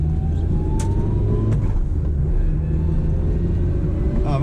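A 1976 Honda Civic, first generation, rumbles loudly from inside the cabin as the driver heel-toe downshifts, the small engine blipping and droning continuously with road noise throughout.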